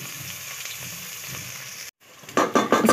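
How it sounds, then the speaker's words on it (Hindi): Onions drop into hot oil in a pot and sizzle steadily, a continuous close frying hiss that breaks briefly, then returns louder with bursts of crackling as they are stirred. "गर्म ऑयल में सबसे पहले जाएंगे प्याज। जी प्याज चले गए। अब इनको थोड़ा सा लाइट ब्राउन कर लेते हैं।"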